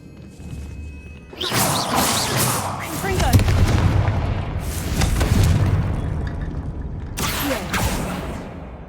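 A Confringo explosive spell goes off in Hogwarts Legacy, heard as repeated loud booming blasts with a sustained roaring rumble, three bursts of heavy impact rising over a low, steady game ambience.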